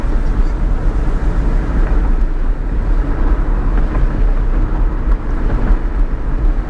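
Steady, loud engine and road rumble from inside a salvage-auction car as it drives, a continuous low drone with no clear breaks where gears change and no talking.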